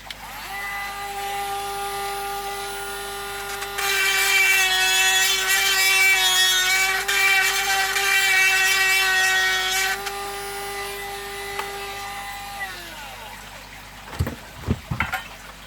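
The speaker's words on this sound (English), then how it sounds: "I need to take a bit more out of that side with that grinder" A grinder trims a bent peg while a mini aquarium is being built, whirring at a steady pitch and then biting in louder for several seconds before winding down, followed by a few knocks.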